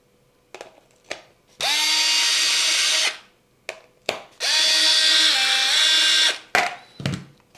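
Cordless power drill driving two screws into the cover of a Parkside 20V grass trimmer; two sustained whirring runs of about a second and a half each, loud and close, with clicks and handling between.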